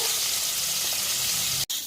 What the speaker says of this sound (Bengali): এই পাঁচটা ভালো করে ভেজে নিতে হবে